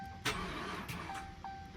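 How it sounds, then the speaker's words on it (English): A car engine cranks and catches, then settles into a steady running rumble, heard faintly from some distance with a constant electrical whine above it. "I had to start the other car."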